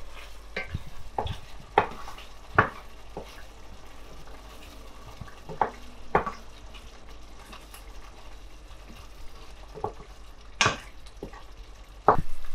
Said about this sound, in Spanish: Removemos y seguimos cocinando unos minutos.